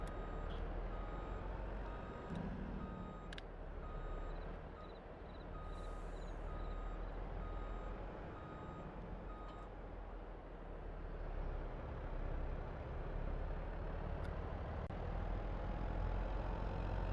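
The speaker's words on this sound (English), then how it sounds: "And we're going to move this truck up." Truck in Farming Simulator 22 idling with a steady low engine rumble while a repeating reversing beep sounds throughout, with occasional faint mechanical clicks.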